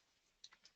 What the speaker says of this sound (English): If I just start typing